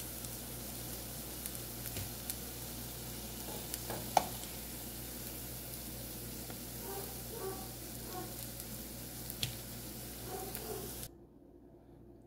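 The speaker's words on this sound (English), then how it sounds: "And then you allow the other side to fry" Spicy tin mackerel fritters fry in a pot, giving a soft, steady sizzle with occasional small pops and clicks that stays fairly quiet throughout before cutting off abruptly near the end.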